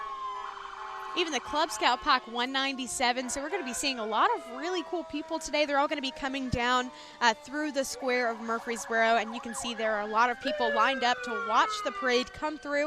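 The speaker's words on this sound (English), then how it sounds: "So if you can hear the sounds in the background, all the sirens." Fire truck sirens from the Las Casas Fire Department wail in the background of a busy Christmas street parade while someone narrates over them, the tones rising and falling continuously.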